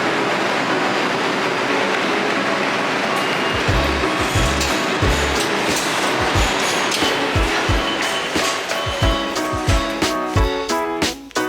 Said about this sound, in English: I think we're just waiting for our train to get here.